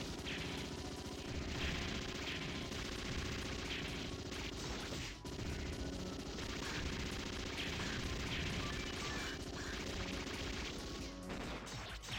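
Sustained rapid heavy machine gun fire from the arcade shooter Metal Slug 6 runs loud and dense through the whole stretch, mixed with game explosions and music, with a brief dip midway.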